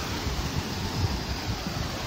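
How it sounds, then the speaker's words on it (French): Strong wind roars across the microphone aboard a boat at sea over a steady wash of waves, a constant broadband rush with low gusty buffeting. "le vent commence à rentrer fort et la mer aussi"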